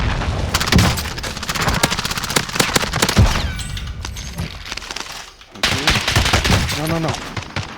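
Video game gunfire erupts in rapid automatic bursts and single shots, loud and close, with a brief lull before another volley, while players talk excitedly over the shooting.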